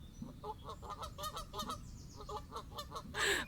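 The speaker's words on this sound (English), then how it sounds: "There are geese that are like right in front of this camera." Geese honk close to the camera in a rapid, repeated series of loud, nasal calls over soft outdoor background noise.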